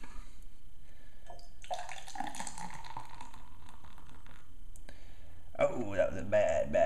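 Budweiser beer poured from a can into a glass, a gurgling liquid pour that swells midway, then a bright foamy fizzing and glugging near the end, close and fairly quiet.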